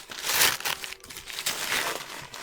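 Old, brittle packing paper is crinkled and torn away from books in a few close, loud bursts of crackling and ripping separated by brief quieter pauses.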